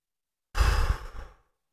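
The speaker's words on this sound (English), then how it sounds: "So easiest way to overcome these is if you just take a deep breath." A single deep breath drawn in and let out, a close, breathy rush lasting under a second with a softer tail, alone in a quiet room.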